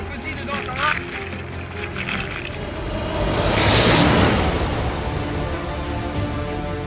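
Sea waves around a rescue boat towing a lifeboat in cold, rough water, a continuous rushing wash that swells into a louder surge midway, mixed with boat engine rumble.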